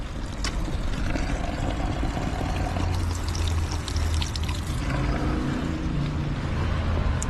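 Water runs from a tap in a steady, full gushing stream that stays at an even level throughout, close by and with nobody talking.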